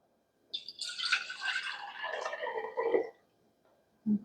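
Water moves inside a Ball 16 oz regular-mouth glass mason jar: a brief bright splashing and trickling lasts about two and a half seconds, followed by a short low knock, in a quiet room.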